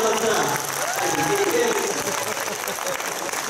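A school audience applauds a young boy named Marcel with a sustained, even round of clapping, loud and close, while someone speaks over it.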